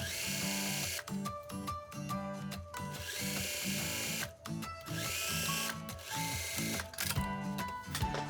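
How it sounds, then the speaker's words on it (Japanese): Domestic sewing machine stitching fabric on a 1 cm seam allowance for a jumper dress, its loud rapid mechanical whirr running in bursts with brief pauses between runs, no talking. "こんな感じでミシンで縫えました"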